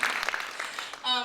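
Theater audience applauding the backstage crew at a Broadway benefit show, a brief burst of clapping over a short spoken moment, fading as a voice begins to talk again.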